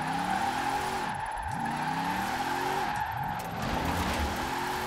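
A drift van in Forza Horizon 4 slides with loud, sustained tire skidding over a steady engine drone, the squeal rising and falling twice as the van swings through its drifts.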